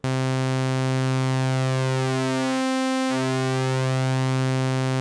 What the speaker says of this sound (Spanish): desde la forma de onda de dientes de sierra, este parámetro se empieza a convertir en una alteración de ancho del pulso de la forma de onda